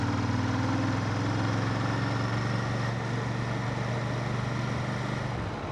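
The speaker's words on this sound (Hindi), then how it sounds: "अभी मैं थोड़ा सा इसको रेव करके दिखाता हूँ आपको कि इंजन को जब आप थोड़ी सी हाई स्पीड पे लेके जाते हैं तो किस तरह का साउंड आता है।" A 2024 Royal Enfield Shotgun 650 twin-cylinder motorcycle engine runs with a steady, droning low rumble at close range, holding an even pitch with a faint drop near the end.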